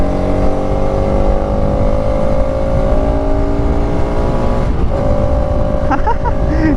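A 2025 Bajaj Pulsar RS200 motorcycle engine revs loud and close while riding, its tone climbing steadily through the gears, with a brief voice near the end.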